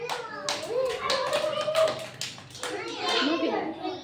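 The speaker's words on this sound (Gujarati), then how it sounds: "હાલો તાળી પાડો બધાય" Young children at a preschool clap together in a quick burst of claps, mixed with their chatter and an adult voice speaking over them.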